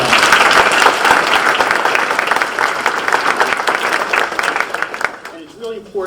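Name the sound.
applause for awardees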